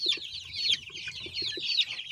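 Soft, repeated low clucking mixed with high, thin peeping chirps from young chicks, including a feather-footed breed and a naked neck, steady and fairly faint throughout.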